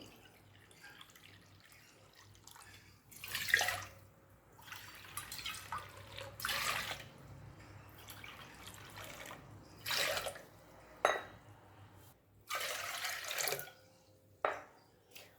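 Four bowls of water pour into a cooking pot for a rice dish in several short splashing bursts with quiet pauses between, close by and moderately loud.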